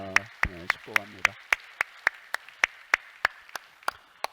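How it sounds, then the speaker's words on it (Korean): A congregation at a church service applauds in celebration: sparse, evenly spaced claps ring out clearly at first over a brief voice, then continue alone at a steady pace. "오늘 은퇴하시고 또 장립하시고 취임하시는 모든 임직자들은 미리 우리 박수로 한번 축하와 축복하겠습니다."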